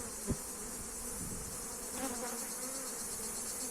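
A dense, steady buzzing of many honey bees at a hive fills the space, constant and close, with a soft bump near the start.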